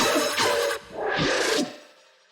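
An electronic track hits a drop on a booming kaboom, and an auto filter sweeps the sound and cuts the bass out briefly before it returns in a rising, whooshing swell that then thins and fades.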